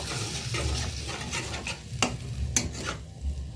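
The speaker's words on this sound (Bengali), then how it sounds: "টক দইটা দিয়ে গোটা ভালোভাবে নাড়বো।" Sour curd is stirred into butter paneer gravy over a low flame. A spoon scrapes and clicks against the pan in uneven strokes above a soft, close simmering sizzle.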